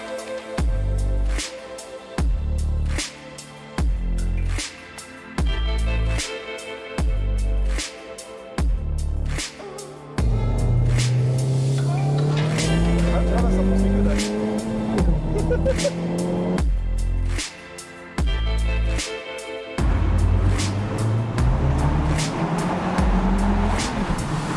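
A Honda Civic Type R Limited Edition driven hard, its engine revving up repeatedly with sharp breaks at gear shifts, then long rising pulls under a continuous close roar.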